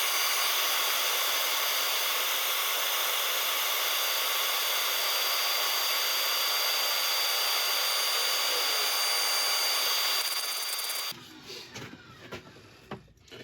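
An oak burl box spins on a lathe under sandpaper, a steady loud whirring hiss that runs unbroken before cutting off abruptly, leaving faint clicks and handling noise.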